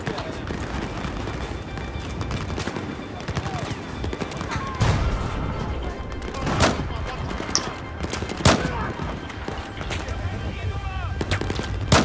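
Dense gunfire from the Battlefield 4 video game on a Singapore map: rapid bursts and heavy single blasts that hit loud and close, running continuously beneath excited voices.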